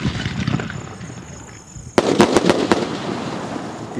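A Diwali sky shot firework goes off outdoors: a soft fizzing hiss as it rises, then a sharp loud bang followed by several rapid crackling pops, with a lingering rumble.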